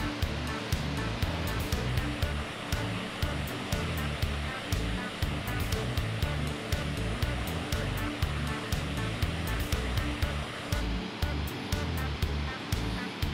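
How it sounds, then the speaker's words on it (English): A continuous, loud roar of Rattling Brook Waterfalls, an 800-foot waterfall in Gros Morne National Park, Newfoundland, fills the space, dense and unbroken from start to finish, with no voices. "800 feet of waterfall."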